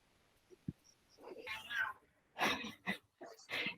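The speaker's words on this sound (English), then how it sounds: "So sorry about her meowing." An elderly 20-year-old cat meows indoors in a few short, raspy bursts, close to the microphone, with a brief cough-like sound before them.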